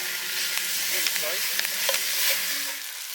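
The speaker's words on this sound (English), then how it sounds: "Meat searing time." Meat sears in a pan at a wild lakeside campsite, a steady broad sizzle with a few clicks and scrapes of stirring, close and moderately loud throughout.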